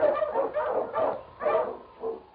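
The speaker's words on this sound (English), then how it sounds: "The Wonder Dog King, swiftest and strongest of Eskimo lead dogs" Eskimo sled lead dog King barks in a run of four or five loud, close, throaty barks spaced about half a second apart, with no other sounds around them.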